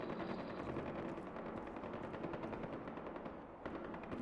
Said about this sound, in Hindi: गोलियाँ कहाँ से चल रही हैं?